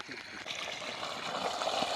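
Water pours steadily from the outlet of a solar-powered farm water pump, a continuous splashing gush heard up close at moderate level.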